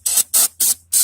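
Four short hissing bursts of carb lube sprayed from an aerosol can onto a lawn mower, evenly spaced and loud, with brief silent gaps between them.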